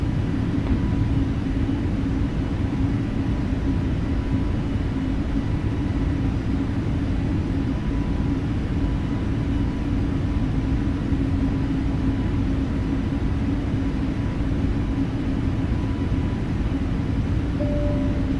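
An Airbus A320 airliner climbing toward a 34,000-foot cruise, heard from inside the cabin as a constant loud low engine and airflow rumble with no variation.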